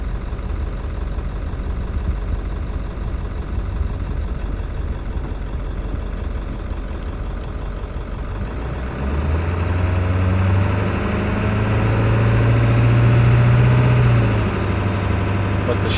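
A Ford 7.3 Powerstroke diesel truck engine drones steadily from inside the cab while driving, a continuous low rumble that swells slightly louder partway through, with a faint tone in the background.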